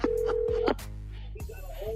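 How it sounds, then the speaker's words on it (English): Telephone keypad tones beep in a quick series for a prank call, close and clear, followed by a brief ringback tone on the line. "right now Steve is in to give us today's prank phone call"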